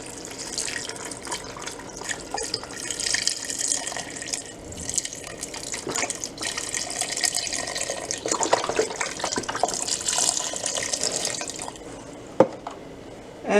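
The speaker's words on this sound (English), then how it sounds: "Here goes the vegetable broth." Vegetable broth pours into a soup pot in a kitchen, a continuous close splashing and trickling of liquid lasting over ten seconds, with a few louder sloshes and a clunk near the end.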